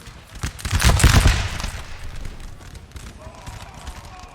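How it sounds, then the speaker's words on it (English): Musket infantry volleys in the Napoleon: Total War game, a burst of crackling massed gunfire swelling in the first second and a half, then fading to a low rumble of distant battle noise. "they're just firing volleys here"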